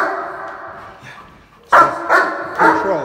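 A German shepherd in training gives three loud, close barks in quick succession after a quieter stretch with a faint whimper at the start.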